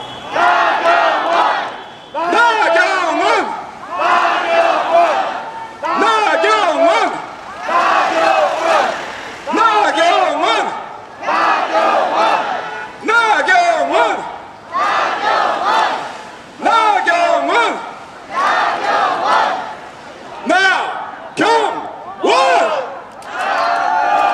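Political rally crowd chanting the candidate name Na Kyung-won in unison, about a dozen loud, rhythmic bursts separated by short pauses, with the chant led and answered by many voices.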